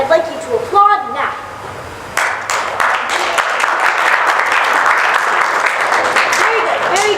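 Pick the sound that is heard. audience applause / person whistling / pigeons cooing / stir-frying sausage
audience applause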